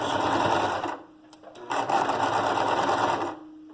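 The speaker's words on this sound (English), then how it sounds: "I'll sew my box pleats. So the same thing, I'll do a 5/8 inch seam, put my presser foot down, hold the tails, back stitch." A sewing machine stitching box pleats with a 5/8 inch seam, including a backstitch, whirs steadily at close range, pauses briefly, then runs again.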